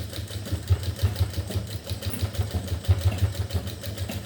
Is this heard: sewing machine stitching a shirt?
yes